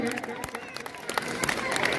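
Audience applause at a school annual day celebration at Saraswati Vidya Mandir Inter College, Satpuli, welcoming guests: dense, continuous clapping from a crowd with sharp individual claps standing out and a faint murmur of voices underneath.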